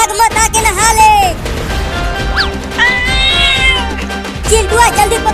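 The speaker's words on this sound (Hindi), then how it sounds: "अरे पकड़ो बिल्ली को, वो भाग रही है।" A cat meows repeatedly while being chased around a house, with rising and falling cries, close and loud, broken by a clattering crash, as voices shout over the commotion.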